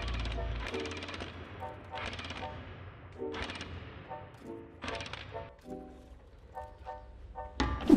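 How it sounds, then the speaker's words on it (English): A power drill runs in about seven short bursts a second or so apart, close and fairly quiet, with brief pauses between them, drilling and fastening brackets for a Federal Brace hanging shelf system. "proceed with drilling and fastening"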